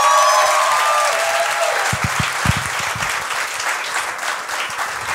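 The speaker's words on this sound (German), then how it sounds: "Bitte gebt noch einen riesengroßen Applaus für Ben Schafmeister." A comedy club audience gives loud, sustained applause for comedian Ben Schafmeister, a thick wash of clapping with a few whoops early on, continuing steadily without talk.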